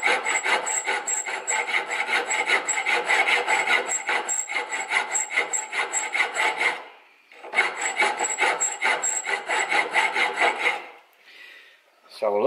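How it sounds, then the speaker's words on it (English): A hand file rasps steadily against the metal part of a homemade Lambretta fork spring compressor, close and loud in dense back-and-forth strokes, pausing briefly around the middle and again near the end. "we've got a bit more to file out"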